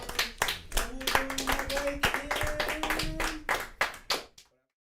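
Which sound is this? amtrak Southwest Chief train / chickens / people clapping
people clapping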